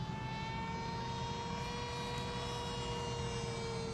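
A ZOHD Dart XL RC plane flies with its motor droning steadily and a faint rattle from worn bearings, a continuous mid-distance whine with no talk.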